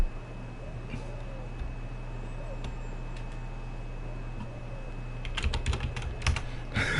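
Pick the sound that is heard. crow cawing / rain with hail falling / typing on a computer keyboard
typing on a computer keyboard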